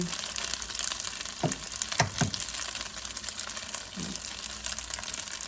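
Eggs frying in a pan for pad see ew, a steady hiss of sizzling oil with a few soft scraping stir sounds, close and moderately quiet, with no talking.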